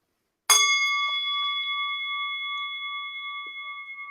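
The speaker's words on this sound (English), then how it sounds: "This is a singing bowl." Singing bowl struck once, a sharp onset followed by a clear, pure ringing tone that sustains and slowly fades over several seconds in a quiet room.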